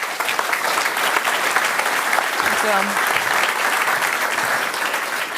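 An audience claps steadily and fairly loudly through a Dutch political lecture as a Volt member of the European Parliament is welcomed, with a brief spoken thank-you heard over the applause.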